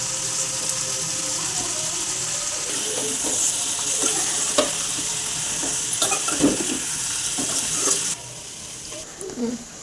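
Tamarind and tomatoes frying in a pan, a continuous close sizzle with occasional stirring scrapes and clinks, easing near the end.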